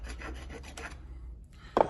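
Marble tile is scratched in short, rough rasping strokes, close and fairly quiet, ending in one sharper scrape.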